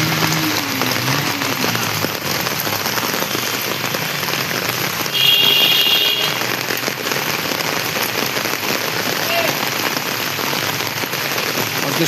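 Heavy rain pours steadily at night onto a waterlogged street in Dum Dum, Kolkata, a loud, dense, unbroken hiss with faint distant sounds mixed in and no voices.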